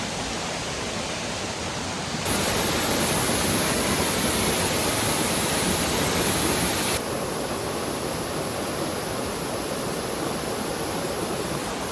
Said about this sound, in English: there's the waterfall over there